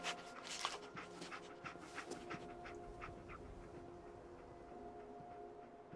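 A dog pants quickly and steadily in Fallout 4, the breathing close and faint, with soft sniffing and low game ambience and no talking.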